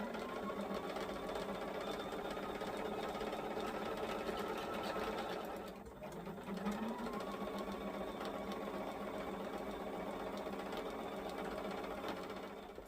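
A sewing machine stitches quilt pieces at a quarter-inch seam, running in a fast, steady mechanical whir close by, with a brief pause and restart partway through.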